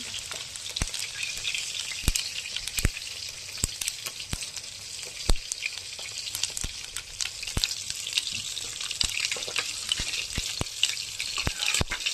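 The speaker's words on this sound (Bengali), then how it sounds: "এখানে তেল গরম হতে দিয়ে দিয়েছি, আপনাদেরকে দেখাচ্ছি কেমনভাবে কচুর ডালে সম্বার দিয়ে আমি জিরে শুকনো লঙ্কা ফোড়ন" Cumin seeds and dried red chilies sizzle in hot oil as a tempering for a taro-stem lentil dish, a steady bright frying hiss punctuated by sharp crackles and pops throughout, close and continuous with no talking.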